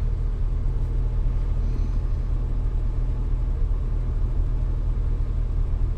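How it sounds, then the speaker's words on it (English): A 1974 Plymouth Valiant engine idling low after a cold start, a steady close rumble that runs continuously and evenly throughout with no talking over it. "Idling low, but check that out."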